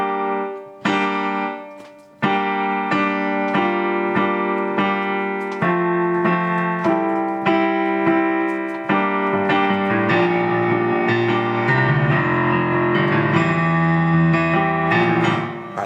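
Right-hand piano chords, played alone as a steady series of sustained block chords changing every couple of seconds, growing fuller and denser toward the end.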